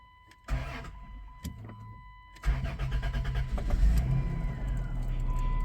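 A 2000 Chrysler Grand Voyager SE, off the road for years, cranks with a brief starter whir, stumbles, then cranks again and catches, settling into a steady, close idle with a slight rev.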